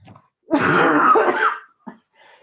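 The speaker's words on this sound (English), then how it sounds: "I'm about to have a nice coughing fit" A hoarse, rasping cough bursts out for about a second during a mayoral election debate, followed by a short second cough and quiet breathing.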